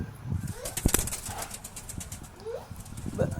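Fantail pigeons in a coop flapping their wings in short bursts, with soft cooing and shuffling close by under a person talking.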